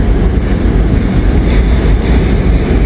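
A train led by a Central of Georgia heritage unit locomotive rolls past close by, loud and continuous with rumbling wheels and rhythmic clickety-clack of railcars over the track.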